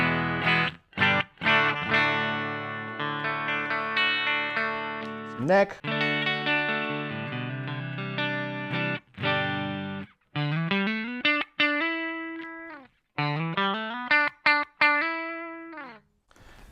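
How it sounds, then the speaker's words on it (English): A Fender Stratocaster on a clean tone plays sustained chords and single notes with clear, ringing harmonics. A voice says a single word briefly. "my Fender Stratocaster, my clean tone sounds like this."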